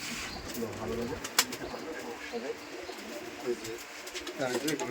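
Soft coos from Giribaz pigeons and bird calls sound nearby at a pigeon farm, mixed with people talking in the background.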